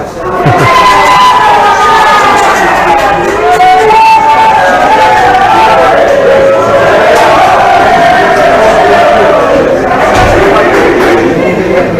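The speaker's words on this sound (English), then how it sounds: "You can hear the Bangkok cheering." Pool fans at the Asia Pool Challenge 2022 in Bangkok cheer loudly, a sustained crowd roar with shouting voices that holds steady for the whole stretch, with no letup.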